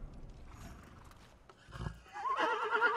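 A horse whinnies loudly in the Ghost of Tsushima video game, a rising, shrill neigh that follows quieter rustling and a low thump.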